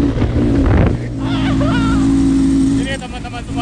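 Motorbike riding up Mount Sindoro: a loud, steady engine drone with heavy wind rumble against the microphone, while a person talks over it.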